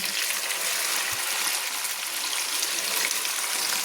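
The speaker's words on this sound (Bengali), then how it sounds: "হাই ফ্লেমে দিয়ে চিকেনগুলো কিন্তু তেলের মধ্যে ফ্রাই করে নিতে হবে" Chicken frying in oil over a high flame gives a steady, bright hiss and crackle that stays even and close, with no talk over it.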